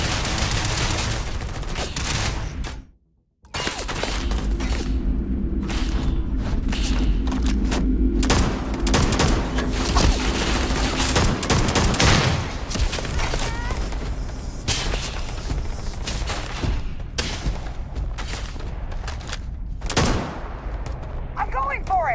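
Starfield weapons fire in rapid, dense volleys of loud gunshots and booms, broken by a short silence early on, then continuing in heavy bursts with occasional voices mixed in.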